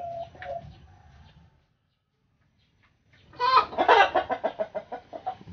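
A native mother hen clucks close by in a run of rapid, rhythmic calls after a stretch of near silence, with softer rustling and a brief low cluck at the start.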